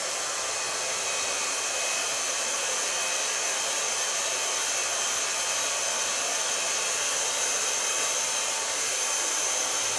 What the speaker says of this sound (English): gonna blow dry it